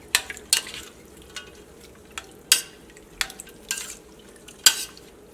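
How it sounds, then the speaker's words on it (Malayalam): Beef curry ingredients stirred in a pressure cooker: a spoon scrapes and clinks against the metal pot in intermittent strokes, roughly six distinct knocks spread over a quiet background. "ഇതെല്ലാം കൂടിയിട്ടൊന്ന് മിക്സ് ചെയ്യാം."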